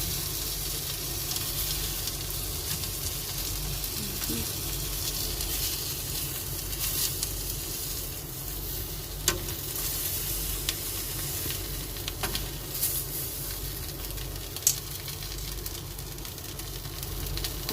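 Fish roasting over a grill, a steady sizzling hiss that runs the whole time, with a few faint clicks and knocks from handling.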